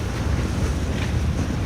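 A steady, loud rumble of a New York City ferry crossing the East River on a windy open deck, with engine drone, water wash and wind buffeting the microphone throughout and no voices.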